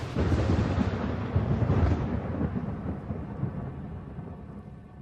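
Thunder sound effect from an animated horror story, a loud rolling rumble that starts strong, stays sustained, then slowly fades, with a faint hiss like rain and no voices.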